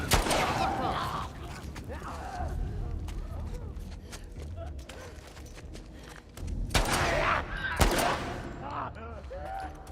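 Bursts of gunfire in modded Minecraft crack through a busy game soundscape, with several loud shots clustered near the end and voices talking over the action.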